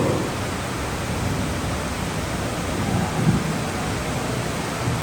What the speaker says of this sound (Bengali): প্রচন্ড ঝড় বৃষ্টি